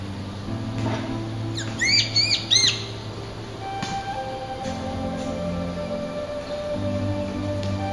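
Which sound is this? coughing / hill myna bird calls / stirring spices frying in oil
hill myna bird calls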